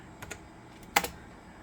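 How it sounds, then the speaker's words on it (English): Keys clack on the keyboard of a Packard Bell Pentium 60 computer, typed one-handed: a couple of quick taps, a pause, then a louder burst of two or three strokes, close and clear in a quiet room. "One-handed typing rocks."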